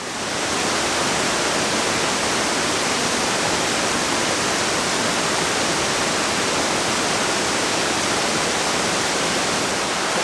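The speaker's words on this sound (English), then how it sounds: "And here's the top of the falls." A waterfall on a creek pours over a rock slab, making a constant, loud, close rushing roar of broadband water noise with no breaks.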